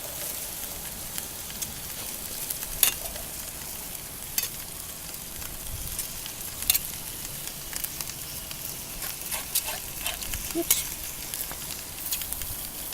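Steak chunks sizzle steadily on a grill grate with a constant frying hiss and occasional sharp pops and crackles, close and unbroken.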